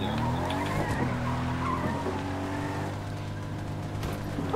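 A Fortnite car driving on a bare rim with a missing tire, grinding and scraping with squealing, sparking noise over a steady engine drone, with faint game sounds around it.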